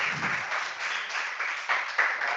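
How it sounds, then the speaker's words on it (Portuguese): Steady applause from a crowd, a dense even patter of many hands clapping that holds for a couple of seconds. "Queria pedir uma salva de palmas aqui pro César."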